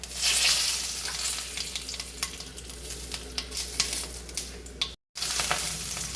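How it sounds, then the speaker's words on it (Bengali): Dried red chilli, cumin and bay leaf fry in hot oil, giving a continuous close sizzle with scattered scrapes of a spatula stirring and a brief dropout near the end. "কয়েক সেকেন্ড শুকনো লঙ্কা একটু নেড়ে দিয়ে দিচ্ছি সাদা জিরে"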